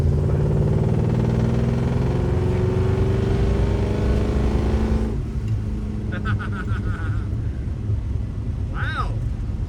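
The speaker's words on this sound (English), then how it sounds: "Let's see how she sounds rolling through the gears a little bit." Engine of a 1958 Plymouth pulled from a barn after 30 years, revving loud and close while driving through the gears, with a rising pitch that drops as the next gear engages.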